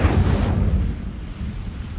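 Incendio fire spell cast in Hogwarts Legacy, a loud, deep whooshing burst of flame that starts strongly and fades into a low rumble over about two seconds, with no talking.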